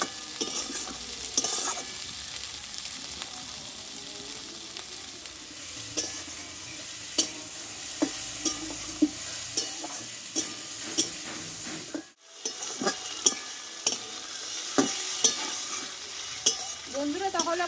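Eggplant frying in a pan, with a steady close sizzle and hiss broken by frequent sharp stirring scrapes and clicks, running continuously with a brief dip near the middle.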